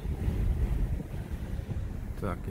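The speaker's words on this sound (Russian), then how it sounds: "Сегодня ветрено у нас." Steady low wind buffeting and rumbling against a microphone during a drive through Lexington, Kentucky, loud and continuous, like air rushing through an open car window.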